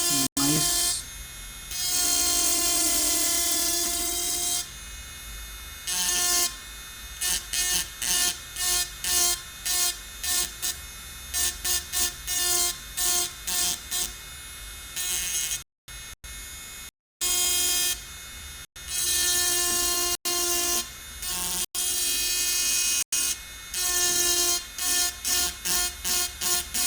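An engraving machine spins at 30,000 rpm, giving a loud, steady high-pitched whine. It repeatedly starts and stops in short pulses, with a few brief silent gaps.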